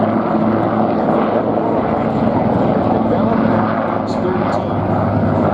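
A UH-1 Iroquois utility helicopter at the Marine Corps Air Station Beaufort airshow in South Carolina gives a loud, steady rotor and engine roar that fills the whole stretch, with an announcer's voice running faintly beneath it.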